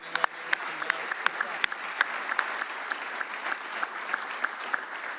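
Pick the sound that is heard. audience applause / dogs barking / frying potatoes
audience applause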